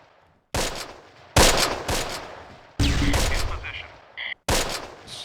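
Tank cannon and machine-gun fire in the WW2 strategy game Close Combat, with several loud, sharp bursts of shots and explosions at irregular intervals, separated by brief quiet gaps.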